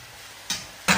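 Ginger and garlic hit hot oil in a wok, giving two short, loud bursts of sizzling half a second apart, each flaring up sharply and then easing, with no talking.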